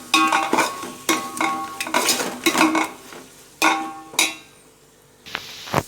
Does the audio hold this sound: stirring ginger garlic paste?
yes